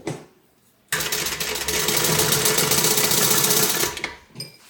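Stitching a zipper seam on a multi-compartment Compton Carryall tote bag, a sewing machine runs loud and steady for about three seconds, then slows and stops.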